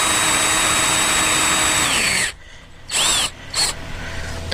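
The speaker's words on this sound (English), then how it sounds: "So let me drill 3 more holes." A power drill bores holes in a shed workshop, running loud and steady for about two seconds and then giving two short bursts after a pause.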